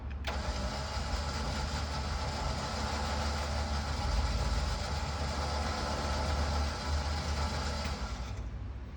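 A Warn Zeo 12,000 lb winch on a 2021 Ram 2500 Power Wagon spools out synthetic rope with a steady motor whir and broadband hum for about eight seconds, close, then cuts off.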